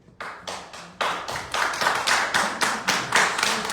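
Clapping at a public meeting, sharp distinct handclaps from a small number of people, starting sparse and quickly settling into a steady rhythmic beat, close and fairly loud with no talk.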